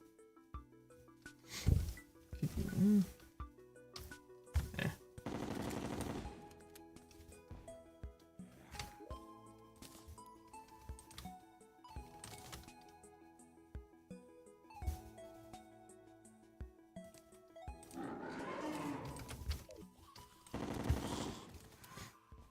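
Rapid bursts of gunfire from a weapon in the video game Terraria, sharp repeated shots in short clusters over quiet game music and effects, no talk.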